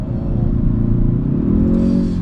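A Kia Stinger 2.0T rear-wheel-drive engine revs hard on a test drive, a loud, close, rising drone that climbs steadily before easing slightly, without talk.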